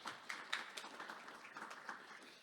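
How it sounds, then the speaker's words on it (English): Audience applause at a green innovation panel forum on energy and the environment, a brief burst of scattered clapping from a room of people, moderately distant and fading over a couple of seconds. "So a round of applause for those folks."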